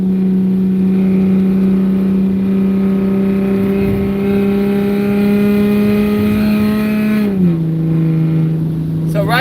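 A BMW E36 M3 fitted with headers and a straight pipe and tuned to 330 horsepower drones loudly and steadily from inside the car as it drives, with its pitch dipping sharply near the end.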